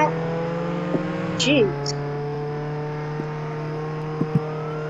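A car driving in the Roblox video game, a steady low engine drone that holds throughout with a brief pitch sweep midway, while a person speaks briefly over it.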